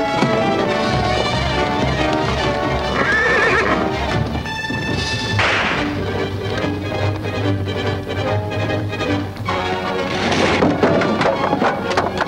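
Horses neigh and whinny loudly while hooves clip-clop steadily, in a busy, dense soundtrack from a 1939 Zorro adventure serial.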